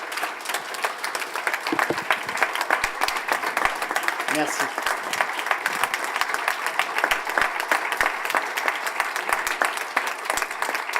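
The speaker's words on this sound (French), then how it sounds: "je vous invite à vous lever et à applaudir et remercier Didier" An audience at the close of a conference applauds steadily and warmly throughout, a dense wash of clapping that carries on as a voice briefly thanks the crowd.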